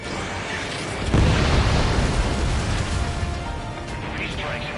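A missile explosion in the video game Ace Combat hits as a loud, sustained roar that swells suddenly and rumbles for several seconds amid jet noise and radio chatter.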